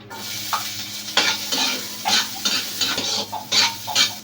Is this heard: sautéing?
yes